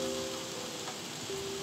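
Rain falls steadily outside a converted bus, a dense, even patter close by with a faint tonal hum running beneath it and no voices.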